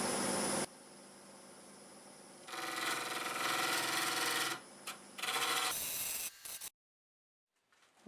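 A segmented star bowl turns on a wood lathe at 1200 RPM: a steady whirring hum swells into a loud, rough broadband rush for a few seconds, then breaks into short bursts before cutting off to near silence.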